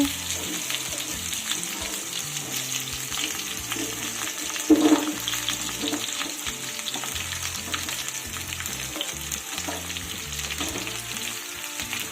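Cut pumpkin, eggplant and potato fry in a pan for a vegetarian Malabar spinach curry, hissing loudly and steadily, with a brief clatter as the pieces are stirred.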